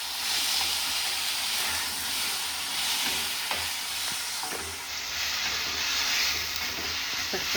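Five large tomatoes frying in a pan for tomato kuzhambu, giving a steady, loud sizzle and hiss with occasional stirring scrapes throughout, no voices.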